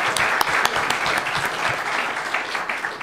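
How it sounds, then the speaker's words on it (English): An audience applauds the panelists at a presidential debate with a burst of steady clapping and a few sharp individual claps standing out, sustained and fairly close throughout. "can we just have a quick round of applause for the panelists so far?"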